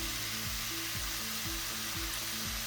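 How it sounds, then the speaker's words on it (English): Meat seasoned with salt and pepper sautés in a pan, giving a soft, even sizzle close by, with a faint rhythmic pulse about twice a second running under it, and no voices. "and just let it saute"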